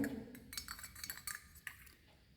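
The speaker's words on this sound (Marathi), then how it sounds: "हे पाणी अशा पद्धतीने मिक्स करायचं आहे" A spoon clinks and scrapes against a glass while stirring turmeric into warm water, a quick series of close, bright metallic taps that fade out near the end.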